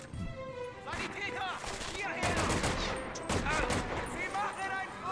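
Gunfire in the World War II shooter Medal of Honor: Vanguard, repeated rifle and automatic bursts in uneven clusters, loud and close, with someone talking over the shooting.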